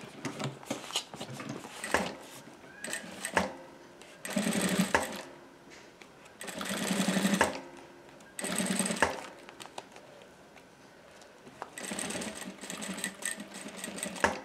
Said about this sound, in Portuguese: já costuramos a volta toda